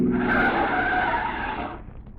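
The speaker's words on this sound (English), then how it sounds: "Here comes a car." A car skidding in an old-time radio comedy sound effect: a loud tire screech and engine rush that fills about two seconds, then fades out quickly, with no voices over it.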